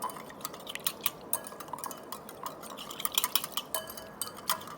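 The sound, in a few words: whisking marinade in a bowl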